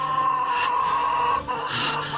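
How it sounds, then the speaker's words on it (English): A chicken clucking close by, a strained, continuous fowl vocalization with a steady tonal cry that dips briefly before resuming, heard alone without talk. "This is the sound when chickens cry."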